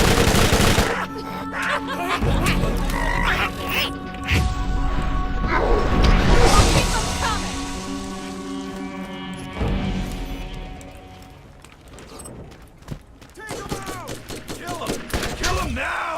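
Rapid bursts of gunfire with crashing impacts from Borderlands, fired with a Dahl weapon. The shots come loud and close in volleys, ease off briefly, then resume as scattered shots.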